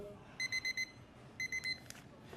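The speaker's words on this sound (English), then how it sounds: "And that's the sound of the buzzer." A short electronic buzzer beeps in two quick groups of four pulses, faint against a quiet background, ending a timed core exercise.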